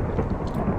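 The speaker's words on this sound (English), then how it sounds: "Oh, thunder!" Thunder in the Minecraft video game, a deep rolling rumble that fills the whole short moment at a steady, fairly loud level with no voices over it.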